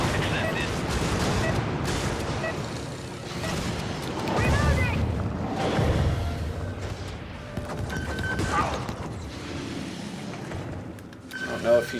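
Gunfire from a strafing run in the shooter game Helldivers-style combat: a sustained fusillade of bursts and booms over several seconds, with talk running underneath.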